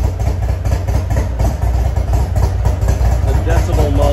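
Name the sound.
motorcycle with new bagger exhaust pipes revving throttle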